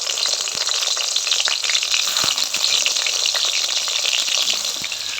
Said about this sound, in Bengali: সর্ষে তেল দিয়ে এবারে তেলটা গরম হয়ে গেলে ওর মধ্যে একে একে বেগুনগুলো দিয়ে দিলাম।